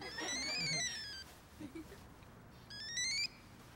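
A phone ringtone chimes twice in a rising, warbling electronic pattern, clear and fairly close, separated by a short gap, with a brief murmur of talk between the rings.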